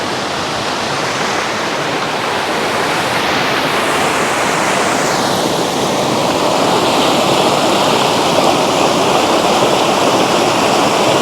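Rapids on the Koiteli River rushing nearby, a loud, steady, broadband roar of churning white water that fills the whole stretch without pause or voices.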